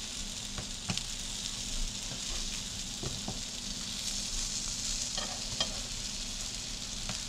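Chapli kebab patty of minced meat with 20% fat frying in its own fat in a non-stick pan, giving a steady, close sizzle with occasional small pops and spatters throughout.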